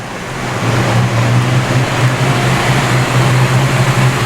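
A Fox Body Mustang on a test ride: a steady engine drone and road rumble, heard from inside the car as it cruises, building at the start and then holding a constant, fairly loud level with no talking.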